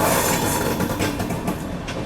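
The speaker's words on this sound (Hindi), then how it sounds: "पैरेलल में तमिलनाडु एक्सप्रेस भाई" Tamil Nadu Express passenger train running on a parallel track, heard from an adjacent moving train: a steady, loud broadband rumble and hiss with faint clattering, continuous throughout, no talking.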